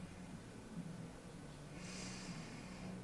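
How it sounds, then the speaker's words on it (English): Slow, deep breathing during a stretching exercise is heard faintly up close, with one airy exhale standing out near the middle over a quiet background. "Deep breaths here."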